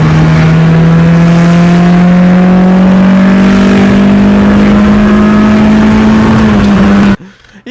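A subscriber's car accelerating hard from 20 to 60 mph, with a loud, steady engine drone rising slowly in pitch, a gear shift near the end, then a sudden cut-off.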